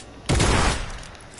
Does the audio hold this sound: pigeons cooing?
no